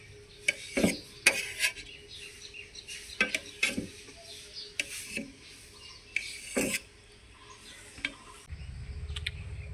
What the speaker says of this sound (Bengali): সিদ্ধ করা ডিমগুলোকে আমি ছোট পিস করে কেটে নিলাম।